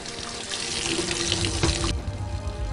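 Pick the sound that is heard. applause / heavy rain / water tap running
water tap running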